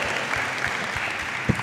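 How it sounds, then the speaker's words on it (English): Crowd applause at a comic convention panel in London, a steady mid-level patter of many hands clapping, with a single sharp thump near the end and no talking. "please give me a massive round of applause"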